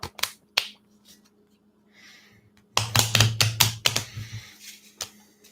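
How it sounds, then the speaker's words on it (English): Tarot cards being shuffled give a few sharp isolated snaps, then a dense flurry of quick riffling clicks, close and crisp, before fading to scattered taps. "I love the sound of shuffling cards."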